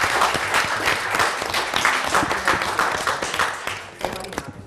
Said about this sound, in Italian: Delligatti, applauso dal pubblico!